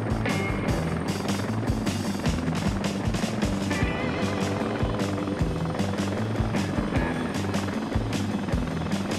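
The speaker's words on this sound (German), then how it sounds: "das dauert so lange, bis dieser Heli stehen bleibt." Helicopter in the video game Heliborne, a loud continuous rotor thump and turbine roar with rhythmic blade chopping that stays close and steady throughout.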